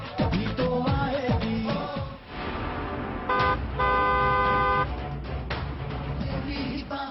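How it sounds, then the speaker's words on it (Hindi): A car horn honks repeatedly in short and sustained blasts on an elevated road, loud and close, some tones held longer amid traffic noise. "इसीलिए जरूरी है कि हॉर्न बजाया जाए।"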